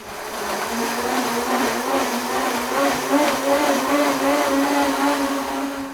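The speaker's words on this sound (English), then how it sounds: "It's time to blend for 30" A blender whirs steadily at high speed, a loud continuous motor drone with a churning, grinding texture running throughout, blending cashew coconut yogurt.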